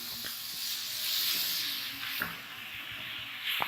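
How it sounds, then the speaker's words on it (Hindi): Onions and bell pepper frying in a pan over a medium flame, giving a steady soft sizzle and hiss with a few faint clicks, close and quiet. "ये ऑनियन और शिमला मिर्च जो है अच्छे से ये फ्राई हो गई है।"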